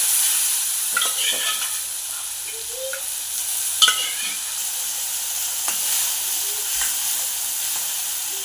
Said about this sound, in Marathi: इथे मी चण्याची डाळ शिजवून घेतलेली होती, आता ती घालून घेते